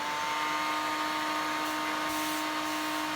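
A Dyson DC07 vacuum cleaner running as a blower, giving a steady, close whine with a constant tonal hum under a broad airy rush.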